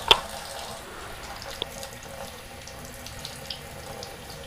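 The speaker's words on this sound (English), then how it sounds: "you want to use low flow water, cool, and you want to work from the clean side out" Low-flow cool tap water running steadily to rinse cleaner off an item, a soft continuous trickle and splash with a sharp knock at the start and occasional faint clicks.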